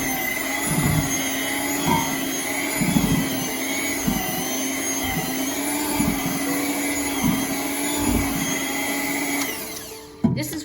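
An electric hand mixer on low speed churns ciabatta dough with a steady whirring motor hum. Rhythmic thumps come as the beaters knock the bowl, and the motor cuts off near the end.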